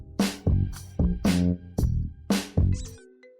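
A mobile phone ringtone plays nearby as a bright, repeating series of tonal notes in regular bursts about half a second apart, then stops near the end, with no talking over it.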